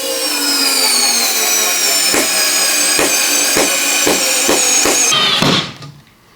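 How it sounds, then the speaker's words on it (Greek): A Parkside 4V cordless electric screwdriver with 10 Nm torque strains to drive a large screw, a loud steady whine broken by a series of regular ratcheting clicks as it kicks and slips, then a quick wind-down. "Βλέπουμε ότι κλωτσάει πάλι, ζορίζεται, αλλά είναι αρκετά μεγάλη βίδα για τα 10 νιουτόμετρα ροπής."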